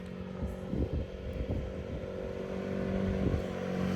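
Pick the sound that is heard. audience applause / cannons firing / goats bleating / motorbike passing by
motorbike passing by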